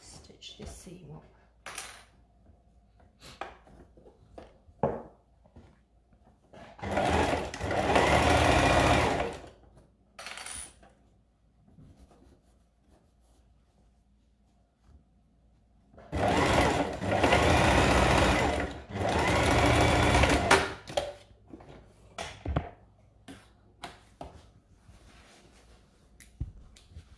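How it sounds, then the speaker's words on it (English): A sewing machine stitches the seam of an oilcloth make-up bag in two long, fast whirring runs separated by a quiet pause. Small clicks and handling noises fill the gaps, and a voice is heard briefly. "So we're just going to stitch this seam up."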